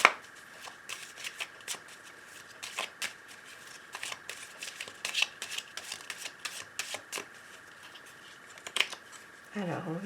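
Oracle cards being shuffled for a card reading, heard as repeated close riffles and soft flicks in quick bursts, with a steady faint background hum and brief handling noise at the end.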